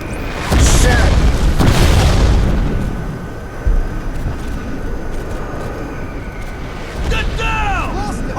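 Artillery shells explode in the video game Crysis 1 Remastered: a loud deep boom with rumbling debris, a second blast a few seconds later, and shouted soldier voices over the battle.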